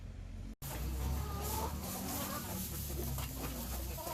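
Hens cluck and murmur inside a backyard chicken coop, a steady dense close-up chatter of several birds filling the whole stretch with no voices.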